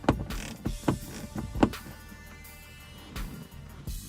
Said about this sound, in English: Take your socket and ratchet and remove the 7mm bolt.